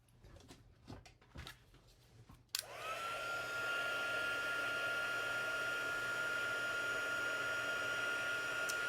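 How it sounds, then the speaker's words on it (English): A heat embossing tool clicks on and blows hot air with a steady, loud whirring hiss that runs without a break after some quiet handling noises at the start. "let's heat emboss that"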